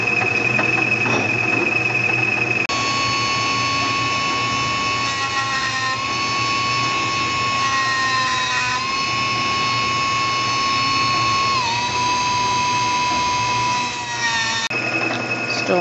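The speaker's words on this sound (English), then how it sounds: "Still milling." A milling machine cuts a slot in a 3-inch metal strip for a front foot plate, a loud continuous whine with a steady tonal pitch that dips slightly as the cutter bites, running without pause.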